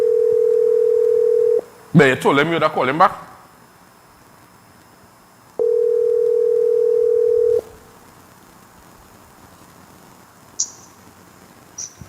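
Two long, steady electronic ringback tones sound, separated by a short burst of voice and a pause, with a faint beep near the end.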